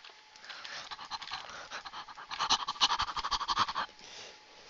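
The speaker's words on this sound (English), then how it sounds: "Breathing intensifies." Heavy, rapid panting breaths in the Roblox game Elemental Battlegrounds, quick rhythmic huffs that grow louder and faster midway before easing off, heard alone without talk.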